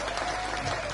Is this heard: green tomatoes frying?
no